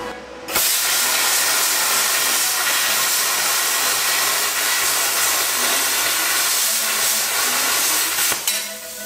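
Espada 40 plasma cutter slicing through 3 mm steel plate, a loud steady hissing roar that runs almost unbroken for several seconds after a sharp start, with a brief dip near the end.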